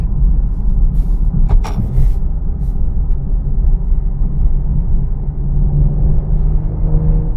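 A Maserati Ghibli SQ4 engine drones steadily at about 3,000 RPM while driving, a loud low rumble inside the cabin with a few faint clicks and knocks over it.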